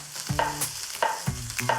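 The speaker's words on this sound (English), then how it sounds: "If you don't hear that sizzle, the pan just wasn't hot enough." Steak frying in a hot pan, with a steady broadband sizzle running throughout and a few louder scraping or stirring bursts on top, close and continuous with no talk.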